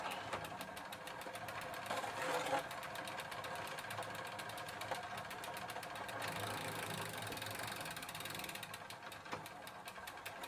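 A nineties Gazelle Maxinette bicycle's crank is turned by hand in second gear, giving a fast, even ticking and whirring of chain and freewheel, close and fairly quiet, with no voices.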